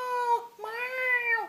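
A house cat meows to be let back indoors, giving two close, loud, drawn-out tonal cries, the second longer and rising, with no talking over them.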